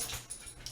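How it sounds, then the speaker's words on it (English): A dog whimpers faintly for under a second in the background of an indoor room, a brief thin whine with no talk over it. "sorry, that's the dog, Char."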